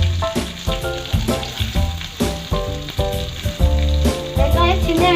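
Onions sizzle and fry in hot oil in a pan for an okra stir-fry, a dense, steady crackling hiss close up, with occasional stirring clatter and no talking.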